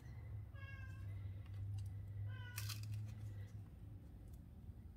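A domestic cat meows twice indoors, the two cries faint and spaced apart over a low room hum.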